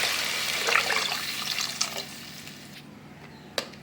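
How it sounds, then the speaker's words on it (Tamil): Water pours steadily into a pot of sautéed onions and tomatoes for a vegetarian curry kulambu, splashing for about two and a half seconds before stopping, followed by a single faint clink. "இப்போ நம்ம குழம்புக்கு தேவையான தண்ணி ஊற்றிக்கலாம்."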